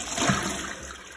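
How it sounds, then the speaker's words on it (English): A toilet with a concealed cistern flushes, a steady broadband rush of water that peaks early and then eases into a continuous running flow, close by and with no talking. "When I flush this toilet,"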